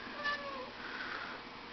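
A backyard cat gives a single short, faint meow, with a quiet outdoor hum behind it.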